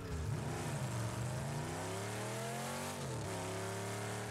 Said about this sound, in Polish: I dźwięk silnika.